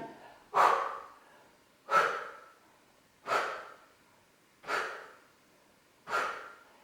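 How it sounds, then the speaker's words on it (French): Five forceful exhalations in a rapid circular breathing exercise, evenly spaced about every 1.4 seconds, each a close, breathy rush that fades quickly into silence. "Petite respiration circulaire plus rapide"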